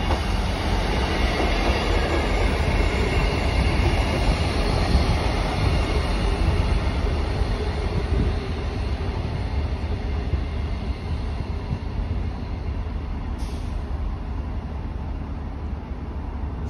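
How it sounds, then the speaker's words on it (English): A South Western Railway class 158 diesel unit, number 158888, runs past at Eastleigh on a Salisbury to Romsey service, a loud sustained rumble with rhythmic wheel clatter and faint squeal throughout. "the 12:51 Southwestern Railway service from Salisbury to Romsey"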